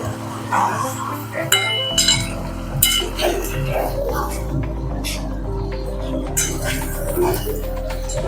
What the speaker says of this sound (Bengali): এখন আমি চিকেনটাকে একটা পাত্রের মধ্যে আবার তুলে নিয়ে রেখে দেব।